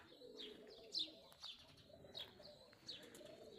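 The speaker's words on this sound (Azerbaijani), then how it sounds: "Nə qədər göyərçinin var, maşallah, nə gözəl." Pigeons in a yard give soft, faint coos and brief chirps, a few scattered calls over a quiet outdoor background with no one speaking.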